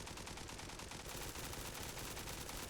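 Rapid automatic gunfire from a first-person shooter match in Zula Mobile, a dense, continuous rattle of shots close up and loud, filling the whole stretch without pause.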